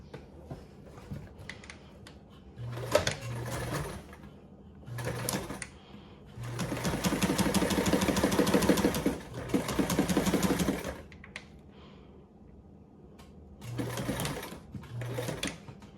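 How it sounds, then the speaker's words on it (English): A sewing machine top stitches two fabric sides with a 1/8 inch seam allowance, running in several close, steady bursts with one long stretch in the middle and short pauses between. "sew your 2 sides with your 1/8 seam allowance for a top"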